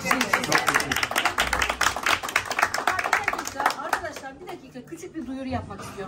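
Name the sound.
audience clapping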